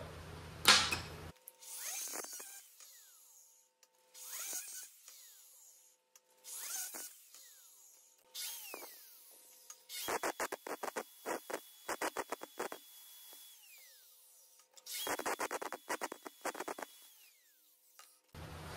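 Power tool cutting and buffing metal e-bike chainring parts, several separate bursts of whining and grinding with short rattling stretches and quiet gaps between them.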